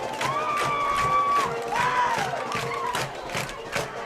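A high school varsity football crowd cheers loudly after a touchdown. Shouts and whistles ring out over a dense, sustained roar of many voices, with some clapping underneath.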